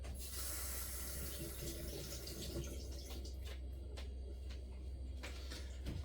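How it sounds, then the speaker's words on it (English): Hands are washed under a running kitchen tap, a faint steady rush of water with small splashes and drips throughout, fairly close and without talk. "please wash your hands, as I'm going to be doing now"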